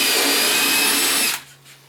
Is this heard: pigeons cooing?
no